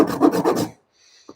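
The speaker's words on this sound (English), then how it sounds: "They are brilliant tools, the saw rasps, and they are so adaptable." A saw rasp scrapes across timber in about four quick rhythmic strokes, a close, coarse rubbing rasp, followed by a short pause and a faint tap.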